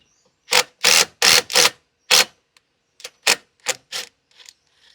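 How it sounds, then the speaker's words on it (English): A 13mm socket and 9/16 wrench tightening a rib nut into a Polaris Ranger XD 1500 frame, heard as a series of sharp, close ratcheting clicks in short bursts with pauses in between, with no talking. "We'll use our 13mm socket and our 9/16 wrench to hold the rib nut install tool while we tighten and snug the rib nut to the inside of the frame"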